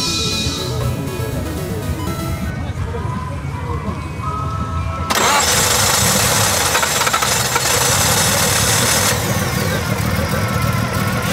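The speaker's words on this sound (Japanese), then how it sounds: "もしかしたらエンジンかけていただけないですか" A classic Nissan Skyline GT-R with an S20 engine cranks and fires, then settles into a loud, steady rumbling idle after a few seconds of background sounds.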